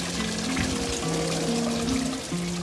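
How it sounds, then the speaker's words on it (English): Solar-powered waterfall in a community garden, a steady broadband wash of pouring, splashing water running continuously at moderate level, with faint tonal hum underneath and no voices. "It's the garden where our waterfall is powered by the sun."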